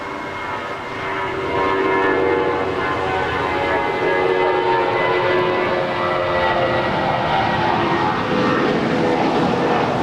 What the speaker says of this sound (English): United Airlines Flight 797 departing to San Jose del Cabo. It's a 23-year-old Airbus A320.